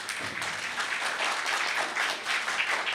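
Audience applause filling a hall at a Christian gathering as thanks to a speaker, a dense, steady wash of many hands clapping with no talk over it.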